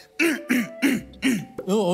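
A man clears his throat in quick repeated bursts, about five short forceful rasps in a row, close and alone without talk.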